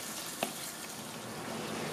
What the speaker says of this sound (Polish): jak boczek też już zaczął mi się smażyć, a nie gotować